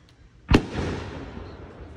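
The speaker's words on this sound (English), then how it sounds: "There's probably a lot of fireworks." A single Canada Day firework bursts with a sharp bang at fairly close range, followed by a long crackling, rumbling decay that fades over the next second and a half.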